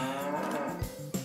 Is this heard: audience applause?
no